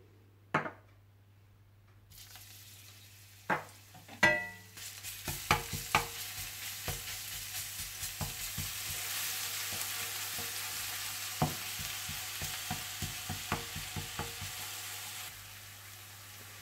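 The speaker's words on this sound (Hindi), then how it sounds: "आप तेल गरम कर लीजिए और इसमें लहसुन को थोड़ा सा फ्राई कर लीजिए।" Garlic sizzles in hot oil, a steady frying hiss punctuated by repeated clacks of a spoon stirring against the pan.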